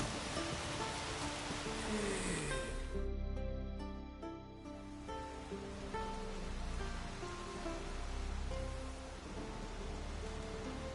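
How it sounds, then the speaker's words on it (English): Steady rain in The Witcher video game, a dense continuous hiss and patter that carries on throughout the clip, with faint musical tones beneath it. "I love the rain."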